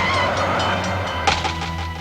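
A Metro Blue Line light rail train weighing over 100 tons rumbles past at close range, a steady loud roar with a sharp metallic clank partway through.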